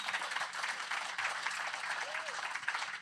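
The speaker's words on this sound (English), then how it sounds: "round of applause, please, for Zack" An audience at a Green Party hustings with Ellie Chown and Zack Polanski applauds steadily, a dense, even wash of clapping that holds for the whole stretch at moderate loudness.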